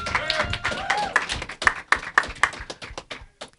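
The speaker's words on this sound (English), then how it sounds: "let's give them a round of applause" Scattered claps from a small audience greeting panelists at a live podcast event, a handful of distinct sharp hand claps over a few seconds rather than full applause, with some background voices.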